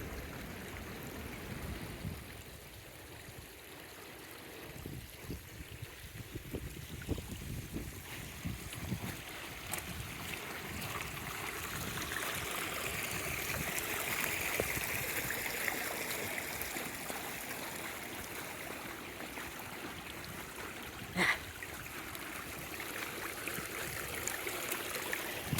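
Mountain stream water rushing steadily past a woodland trail on a sunny, breezy day, a continuous broad wash of flowing water with wind gusts, close by.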